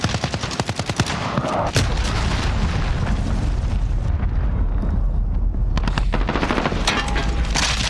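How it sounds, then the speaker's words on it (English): Heavy explosions and rapid gunfire rumble through a Call of Duty Modern Warfare match, with dense booming blasts and sharp shot bursts at the start and end. "Enemy cruise missile."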